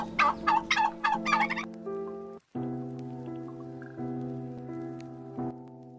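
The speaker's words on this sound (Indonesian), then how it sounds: "Yang paling seronok sekali ialah ada pula ayam Belanda." A domestic turkey kept at a village homestay near Pantai Sepat, Kuantan gobbles in a rapid rattling burst, then a steady droning hum continues alongside faint background noise.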